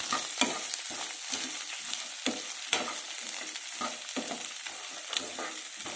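Onions being fried for soya chunks curry, a steady sizzle broken by rhythmic strokes of a spatula stirring and scraping the pan roughly twice per second, close and fairly soft, with no voice.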